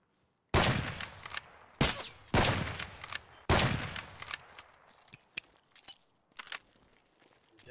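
Gunfire in the shooter game Escape From Tarkov: several loud, close shots in uneven bursts, followed by a run of quicker, fainter cracks that trail off.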